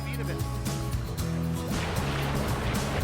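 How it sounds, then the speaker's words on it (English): A canoe heads downstream on the Akan River in Hokkaido into surging waves. A voice talks at first, then loud, rushing water fills the rest of the moment close by. "Immediately after leaving, surging waves on the surface come into view."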